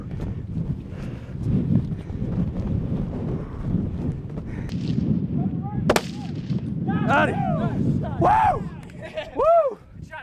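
A rifle shot fired at a caribou bull during a hunt on the open tundra, one sharp crack near the middle amid wind buffeting, running footsteps and excited shouting voices.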